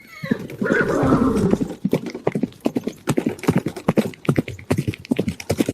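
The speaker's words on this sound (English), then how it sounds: "we're certain to hear hoofbeats and the sound of neighing" Hooves clip-clop in a quick, uneven rhythm close by, after a horse's loud whinny at the start.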